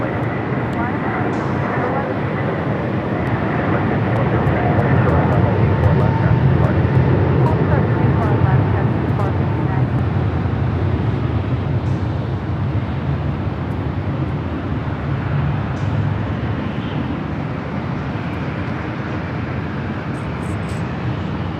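An airliner takes off from runway 24 Left at LAX, a broad steady roar that swells slightly and holds, heard from a distance under radio chatter from the tower.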